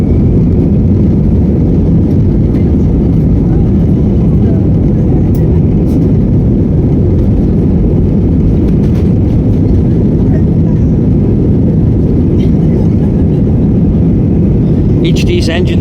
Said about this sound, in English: These aircraft have got to hit about 140, 150 knots for takeoff.